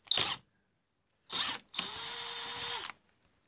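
A Milwaukee 0435-1 3/8-inch 12-volt cordless drill runs in reverse to spin its chuck off the shaft: two short whirring bursts, then a steady, close whine lasting about a second before it winds down.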